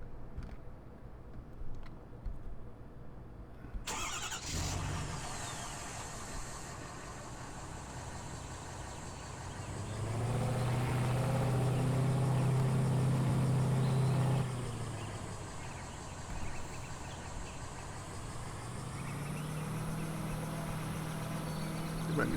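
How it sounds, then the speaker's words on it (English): A pickup truck engine in Farming Simulator 2013 drives steadily, its hum swelling louder in the middle as the revs climb, then settling back to a continuous drone. "I'm just going to bring the pickup truck back"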